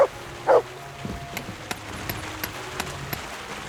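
A dog in the medieval video game Kingdom Come: Deliverance II gives a couple of short, sharp barks near the start, followed by quieter scattered ambient knocks and faint background sounds.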